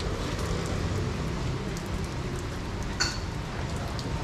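Steady rain pours down outdoors in an even hiss while a motorcycle is being filmed, with a brief sharper tap about midway and no speech.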